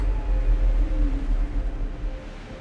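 A storm in the video game Deliver Us Mars: a low, steady rumbling wind roar with a faint tonal hum that slowly fades, and no voices.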